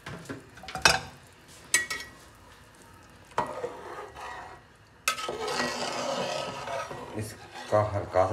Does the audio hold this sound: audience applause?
no